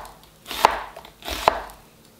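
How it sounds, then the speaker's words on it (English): Two distinct knife strokes slicing through an onion on a cutting board, each a crisp crunch ending in a sharp tap of the blade, spaced under a second apart, close and clear with no talk. "I'm just gonna slice up my onion up"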